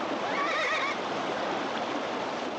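Frightened horses neigh once over a steady rush of flowing water, the whinny rising and falling early on before fading into the continuous wash of the stream.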